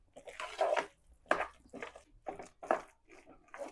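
Cooked raw banana being mashed for a fish curry, giving a run of soft, squishy, wet presses in an uneven rhythm, close and fairly quiet with no talk.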